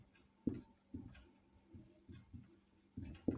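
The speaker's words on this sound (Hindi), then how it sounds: "हम यहां लिख सकते हैं" Marker or chalk strokes on a board during a classroom English lesson, a series of short scratchy bursts spaced irregularly, close and fairly quiet, with no voices.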